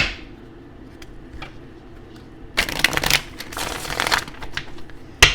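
Tarot cards are shuffled by hand in quiet bursts, starting with soft scattered riffles and then several loud, close crackling shuffles in the second half, ending with a sharp snap.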